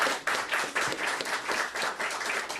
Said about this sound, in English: Let's give this council a round of applause.